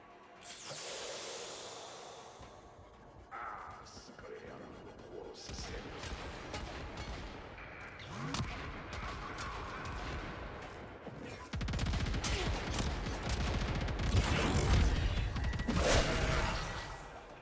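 Video game gunfire as a crew opens fire: bursts of rapid shots and crashing impacts, moderately loud, building to a denser volley toward the end over steady background noise.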